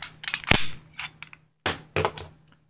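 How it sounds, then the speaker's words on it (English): A KJW GBB-614 gas blowback airsoft pistol is taken apart by hand, giving a sharp metallic snap followed by several lighter clicks and slides of parts, close up with no talking. "As you can see, the gun dismantles like a real gun."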